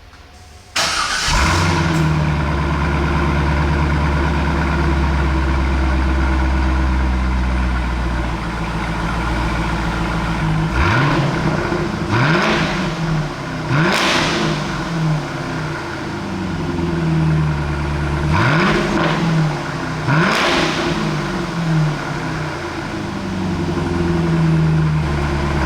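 A Corvette C5 with a Borla ATAK exhaust starts abruptly, idles with a deep rumble, then revs sharply to about 3,000 RPM several times, each rev falling back to idle, loud and close.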